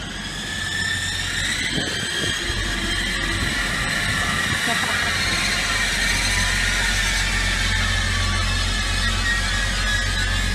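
A train's brakes squeal with high-pitched whining tones over a constant low engine rumble at Grantham station, loud and sustained.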